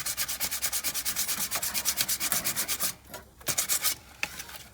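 Hand sanding with sandpaper in a shed, a steady run of rhythmic rasping strokes, close and fairly loud, then a pause and a few slower scattered rubs.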